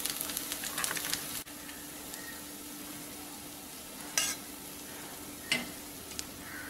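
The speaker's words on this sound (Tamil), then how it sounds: "குழிப்பணியாரம் மட்டும் கொஞ்சம் மீடியம் ஃப்ளேமில் வச்சு நீங்கள் வந்து பொறுமையாக வேக விடணும்" Kodo millet kara kuzhi paniyaram cooking slowly over a medium flame in a paniyaram pan gives a steady, soft sizzle with a faint crackle. Two brief brighter bursts rise partway through, and no one speaks.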